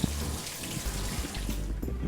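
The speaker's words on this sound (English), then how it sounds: "So the first thing that we want to do is rinse our strawberries" Strawberries are rinsed under a running kitchen tap, a loud, steady rush of water splashing over the fruit with small irregular spatters, close and continuous throughout.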